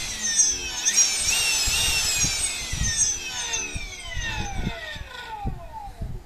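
Electric motor run by a VESC controller and worked by hand throttle, whining up and falling in pitch over several seconds, fairly loud and close, with small clicks and knocks beneath it.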